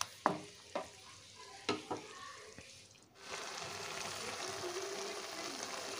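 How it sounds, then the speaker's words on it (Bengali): A pot of bottle gourd greens curry with fried bori is stirred, giving a few sharp clinks and scrapes, and then a steady, even simmer and bubbling takes over. "এখন আমি এতে ভাজা বড়িগুলো দিয়ে দিচ্ছি, দিয়ে এটা আরও 5 মিনিট মতো রান্না করব।"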